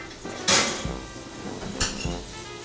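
Clanks of a metal roasting pan of herbed potatoes being pulled from the oven, two sharp bangs about a second apart with softer knocks between, close and without talk.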